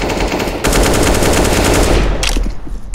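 Rapid automatic AK rifle fire in Counter-Strike, loud close bursts of quick rhythmic shots that stop briefly, then return as a second short burst.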